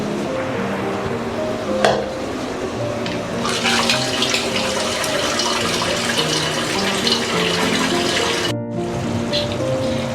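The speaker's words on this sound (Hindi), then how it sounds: "अब हम इसका पानी निकाल लेंगे।" Cooking water pours off par-boiled rice for chicken biryani, a steady close splashing and running of water into a sink that continues almost unbroken and stops abruptly near the end.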